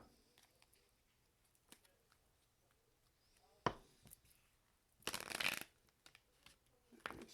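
A tarot deck, a fairly new Labyrinth deck, being shuffled, heard as a faint tap, then a sharp riffle burst and a few softer card flicks, with quiet room noise in between.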